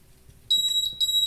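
Alarm on an IoT tornado wind-detection prototype starts beeping abruptly, sounding high, steady electronic tones in repeated pulses that carry through to the end, loud and close.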